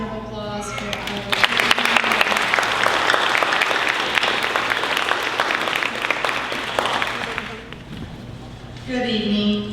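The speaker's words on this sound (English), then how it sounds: "Let's have a round of applause for our" Applause at a high school senior ceremony: a large audience claps loudly and steadily for several seconds after a name is called, then fades out while a voice starts speaking near the end.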